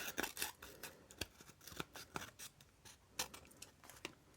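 Scissors trimming the edges off a paper card, a rapid run of crisp, close snips and slicing strokes with small pauses between, fairly quiet and with no talking.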